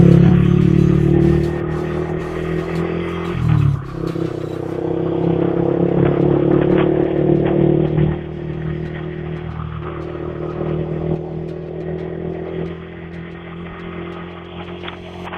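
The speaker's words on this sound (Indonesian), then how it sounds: "tes sound dan review dari knalpot R9 Misano ini ya, yang dipasang di R15 V3" A Yamaha R15 V3 fitted with an R9 Misano aftermarket exhaust drones loudly at a steady rev, with a brief dip and swell partway through, then holds a rough, buzzy idle-to-midrange tone.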